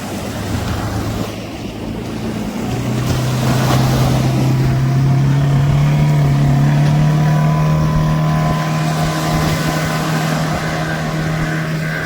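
A fishing boat's motor off Manalkadu, Jaffna, working a beach-seine net at sea, drones steadily and fairly loud, its pitch rising slightly, amid wind buffeting and breaking surf, with no one speaking.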